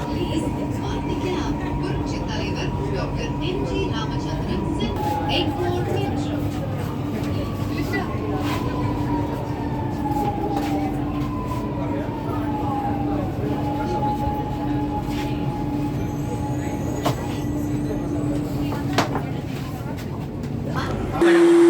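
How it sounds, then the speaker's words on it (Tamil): A Chennai Metro train starts from a station and rolls along with a steady low rumble and rising whine, a continuous hum throughout with a brief louder surge near the end. "மெட்ரோ ஸ்டேஷன்லேருந்து இப்போ ட்ரெயின் ஸ்டார்ட் ஆயிடுச்சிங்க"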